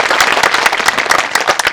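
A satsang audience at a devotional gathering breaks into loud, close applause, many hands clapping in a dense, continuous patter.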